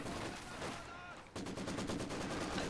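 Bursts of machine gun fire crackle through a Company of Heroes 2 World War II battle, a short gap midway before dense rapid rattling resumes, with faint commentary mixed in.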